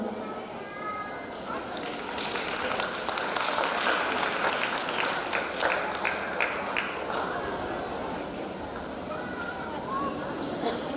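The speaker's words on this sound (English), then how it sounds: "Let's welcome the performers with a big round of applause." An audience welcomes school performers at a high school parents' night with applause, a broad swell of clapping that rises after a couple of seconds and tapers off, with voices speaking over it.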